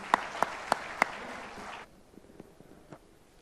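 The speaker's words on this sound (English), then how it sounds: "A big round of applause for him once more" Audience applause for a speaker at a knowledge summit, a short burst of scattered clapping with a few sharp close claps that stops abruptly, leaving faint room noise and stray taps.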